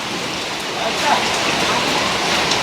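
Heavy rain pours steadily in a dense, loud hiss of drops hitting surfaces during a downpour and flooding, continuous and close.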